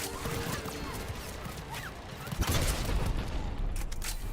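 Rapid gunshots from a video game shooter pile into a dense, rumbling barrage of overlapping cracks that swells midway and stays loud, with a voice faintly mixed in.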